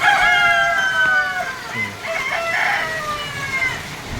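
Rooster crowing among clucking chickens on a farm after heavy monsoon rain, the long wavering crows loud and close, overlapping one another across the whole stretch with no talk.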